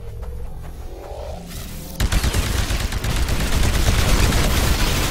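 A burst of anti-Titan weapon fire in the video game Titanfall opens suddenly after a quieter stretch, a loud dense barrage of gunshots that continues steadily to the end.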